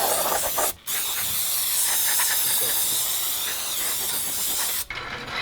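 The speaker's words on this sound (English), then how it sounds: "go ahead and hit the new rotor with brake cleaner as well" Brake cleaner hisses from an aerosol can onto a new Brembo brake rotor on a WRX, a loud continuous spray lasting several seconds with brief pauses near the start and end.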